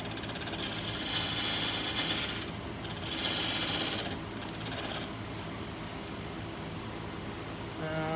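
A bowl gouge cuts into a wooden vase spinning on a lathe at 1600 rpm, making a steady continuous rasping scrape with a few louder surges of cutting.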